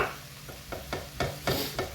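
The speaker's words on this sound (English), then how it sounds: "we don't want boiling bacon, we want fried bacon, so get it spread out" Bacon fries in a pan for a cheesy bacon pasta, a steady soft sizzle broken by several sharp scraping clicks as it is moved around, with no talking.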